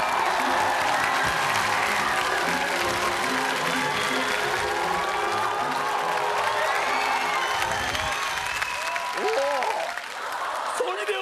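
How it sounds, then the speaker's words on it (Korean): Audience applause and cheering for a comedy performer on a televised gag concert stage, a loud, steady wash of clapping from a large crowd with scattered whoops, fading slightly near the end. "큰 박수 부탁드립니다."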